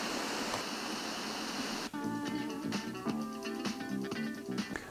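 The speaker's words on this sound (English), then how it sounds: "White noise, cosmic background radiation." Steady hissing FM radio static on an empty channel for about two seconds, then faint tones and music-like sounds break through the noise.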